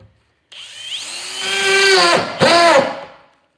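Power drill motor revving up with a rising whine, holding a steady high-pitched spin, then briefly cutting and spinning again before winding down; close and loud, with no talking.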